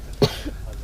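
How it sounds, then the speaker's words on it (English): A single short, sharp cough bursts out close by against quiet background murmur. "Trying not to cough."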